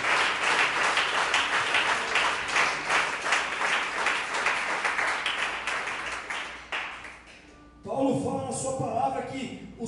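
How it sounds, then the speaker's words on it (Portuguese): A church congregation applauds loudly in a dense, sustained burst of clapping that fades out near the end, after which a voice and music take over. "Será que você pode dar uma salva de palmas a Jesus?"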